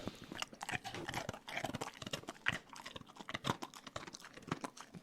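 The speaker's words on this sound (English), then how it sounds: "Doggy cookies. Crunchy, crunchy, crunchy, crunchy." A dog crunches on dog cookies up close, with rapid, irregular crisp chewing and biting snaps, fairly quiet and continuous.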